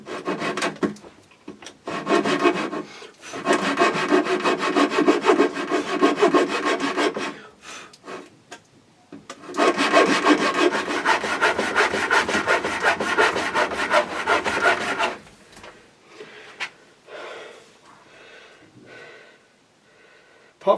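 A hand saw cutting the corners off a wooden guitar body mould, rasping back-and-forth strokes in two long bursts separated by short pauses, close and clear, trailing off into quiet.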